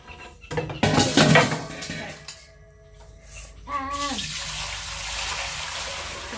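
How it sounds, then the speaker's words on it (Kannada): Water pours in a splashing stream for a few seconds while making buttermilk at home, after some clattering kitchen noises, close by and fairly loud. "ಈಗ ನಾನು ಇದರಲ್ಲಿ 2 ಸಲ ಹಾಕಬೇಕು ನೀರು"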